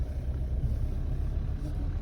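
Steady low engine rumble of a car rolling slowly during a driving lesson, clutch being eased up, close and continuous with no talk over it.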